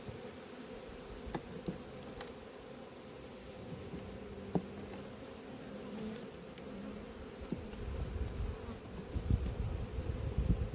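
Honeybees buzz around a hive that is being filled with honey at an apiary, a steady close drone with occasional louder passes that swells toward the end.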